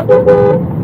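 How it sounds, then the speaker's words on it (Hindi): A faulty horn on a 2012 Volkswagen Jetta 2.0 TDI gives a short, strained toot that wavers and cuts out, heard up close inside the car. "सॉरी मेरा हॉर्न थोड़ा खराब है"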